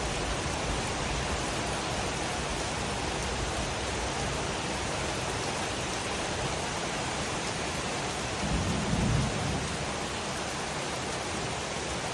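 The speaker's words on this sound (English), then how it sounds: "Oh, there's a good little storm going on." A thunderstorm with steady heavy rain hissing evenly throughout, and a brief low thunder rumble swelling near the end, with no talking.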